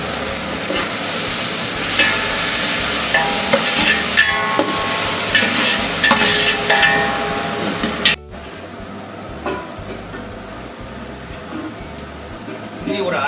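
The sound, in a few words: sautéing coriander with salt in a large biryani pot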